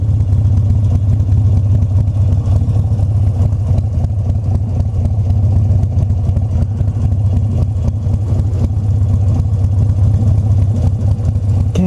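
A big twin-cylinder motorcycle idles steadily nearby, its deep, loud rumble continuous and unbroken throughout, with no voices.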